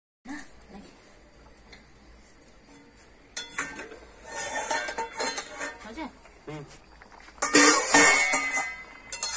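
A lid goes onto a cooking pot of moong dal curry with peas, potato, tomato and coriander. Metal clanks and rattles come close by, with a louder clatter near the end, while a voice talks over parts of it.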